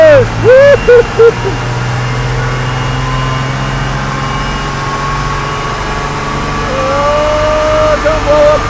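A high-mileage Cummins turbo diesel runs hard on a dyno, a steady loud drone that swells toward the end, with excited voices shouting over it near the start and again later.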